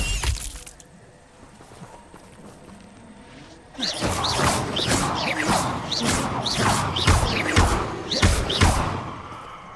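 A Confringo fire spell blasts in Hogwarts Legacy, heard as a loud run of repeated crashing, shattering impacts that sets in after a quieter stretch and continues in a dense, rhythmic series.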